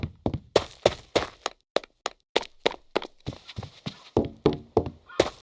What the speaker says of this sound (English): presence footsteps, which adds footstep sounds based on the materials you walk across